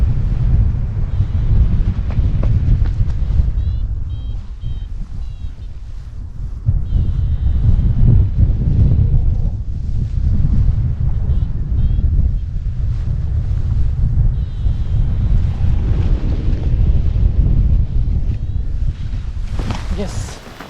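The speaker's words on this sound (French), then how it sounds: "Je sais pas dans quel sens le vent il est. Mais je me fais chahuter." Heavy wind buffets the microphone during a paraglider landing in gusty, shifting air, a loud continuous low roar with surging gusts throughout and a brief rustle near the end.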